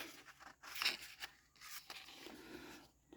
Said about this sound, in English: I have my scissors. I'm going to rough cut this out first